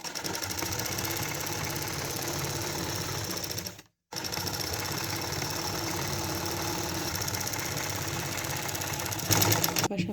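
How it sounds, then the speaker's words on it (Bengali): Sewing machine stitching a half-inch seam on a petticoat, a steady close whirring drone that stops briefly partway through and then resumes at the same even pace. "হাফ ইঞ্চি পরিমাণ সেলাই দিয়ে নিচ্ছি।"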